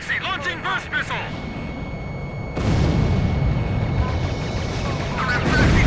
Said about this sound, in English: The Rimfaxi firing missiles at close range.